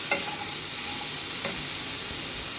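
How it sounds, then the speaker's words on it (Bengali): Shrimp, chopped potato and onion frying and sizzling in a pan, with a steady hiss and a few scraping stirs of a spatula, close and alone without talk. "চিংড়ি মাছটা, আলু কুচিগুলো দিয়ে দিলাম। দিয়ে আলুগুলোকে এর সঙ্গে ভাজা ভাজা করবো।"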